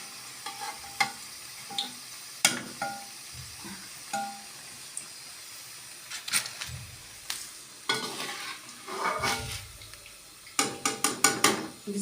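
Pakoras in a pan of frying oil crackle and fizz softly while a spoon scrapes and clinks against the pan in irregular bursts as the fritters are lifted out.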